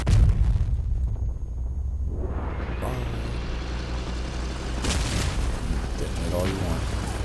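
A vehicle detonates in the Crossout combat game, a heavy booming blast that swells and rumbles low before trailing into engine and battle noise, with people talking over it.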